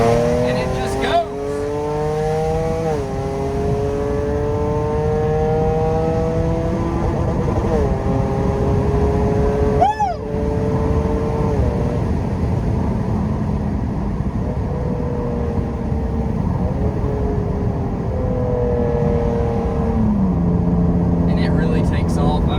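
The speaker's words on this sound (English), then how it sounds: "As soon as you touch it, it shifts down, and it just goes." A supercharged Jaguar XE 35T with a ZF8 automatic pulls hard from inside the cabin, engine note rising through gears with clear shift steps, loud and steady throughout while someone talks over it.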